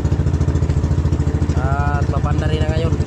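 A newly installed Cummins six-cylinder turbo diesel runs steadily on a boat during a sea trial, giving a loud, rhythmic, throbbing drone. Voices talk over it partway through.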